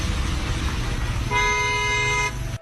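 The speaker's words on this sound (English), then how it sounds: "The car he cuts in front of even beeps loudly" A car horn sounds one sustained, loud honk in traffic, blaring over the rumble of road noise before cutting off abruptly.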